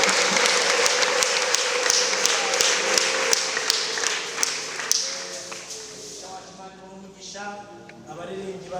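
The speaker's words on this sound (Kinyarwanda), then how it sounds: "twongere tuyikomere amashyi" Congregation in a church clapping hands together in a steady, fairly even rhythm for several seconds, then the claps thin out as singing voices and instruments take over.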